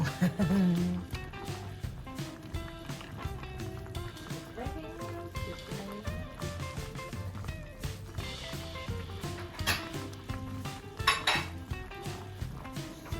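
Pork bone soup is ladled from a pot into a bowl, with repeated clinks and scrapes of a metal ladle against cookware and someone speaking throughout.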